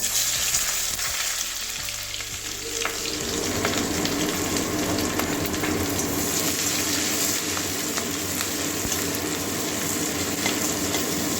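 Chopped onion and green chilli fry in hot oil, with a dry red chilli already in the pan, building into a loud, continuous close sizzle that holds steadily throughout.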